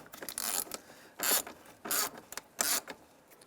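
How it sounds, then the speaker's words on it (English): A ratchet tightens a bolt on the blower motor assembly of a 1992-1996 Ford F-150, giving four distinct bursts of close, crisp clicking with short pauses between them. "All right, now this is our last bolt. This one will start to tighten up."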